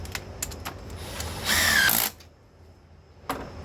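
A ratchet on a 15 mm bolt of a 2013 GMC Terrain engine gives a few light clicks, then a half-second whirring buzz as it spins the bolt down, followed by a final click.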